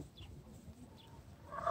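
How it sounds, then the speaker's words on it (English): A chicken at a petting zoo clucks in short, fairly quiet bursts, with a slightly louder squawk near the end. "They're a loud chicken."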